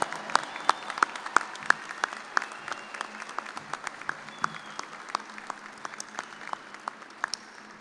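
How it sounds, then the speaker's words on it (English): Steady applause from the audience at a Kansas State University College of Education fall commencement for the new graduates, sharp claps scattered through a continuous patter and fading slightly over several seconds, with no voices. "Give them a big round of applause."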